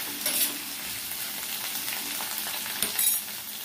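Ivy gourd pieces and onions frying together in oil in a pan, a close, continuous sizzle with a couple of brief stirring scrapes, no talking.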